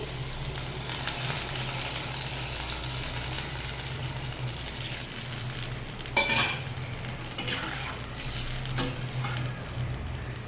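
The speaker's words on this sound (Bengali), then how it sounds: "ভাজা হয়ে গেছে, জল দিয়ে দিচ্ছি।" Water is poured into a hot pan of fried ash gourd, giving a steady, fairly quiet sizzle and crackle, with a few sharper clinks and stirring noises partway through.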